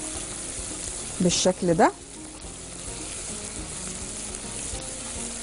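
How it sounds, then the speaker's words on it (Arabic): Coriander frying with onion in a pan gives a steady, close sizzle throughout, while someone speaks briefly over it. "والكزبرة انا بحب اقليها مع البصل"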